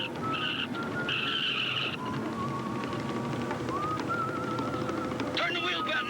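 A car skids off the road in an old television drama, with high tire squeals over a steady engine and road rumble, the squeal returning at the end.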